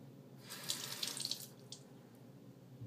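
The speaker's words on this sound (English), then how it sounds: "take your spoon and fill up the spoon once with water." Water from a tap runs briefly into a small spoon in a kitchen sink, a soft, close splashing trickle that swells and fades within a couple of seconds, alone and quiet.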